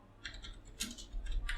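Computer keyboard keys tapped in a few quick, light bursts while code is typed, close and fairly quiet, with short pauses between clusters of clicks.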